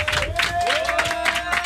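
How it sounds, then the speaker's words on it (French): Crowd applause with cheering in a radio studio, dense and steady, while a sustained tone rises beneath the clapping. "On peut l'applaudir très très fort les amis"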